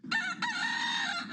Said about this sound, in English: A rooster and its companion hen are causing a ruckus in this neighborhood.